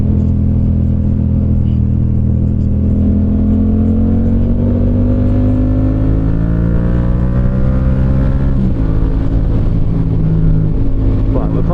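Yamaha MT-07 motorcycle engine revving up through the gears on twisty UK back roads, a loud sustained drone with rising harmonic sweeps and wind rush, a gear change near the end, and speech over it.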